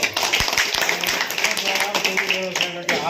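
Audience applause for MLA Gummanur Jayaram at a village education committee gathering in Gajaramapalli, a steady patter of clapping under a voice talking over it throughout.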